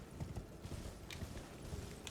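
Horse hooves galloping in the video game Elden Ring, a quick, even clip-clop rhythm at moderate distance that runs throughout without talk.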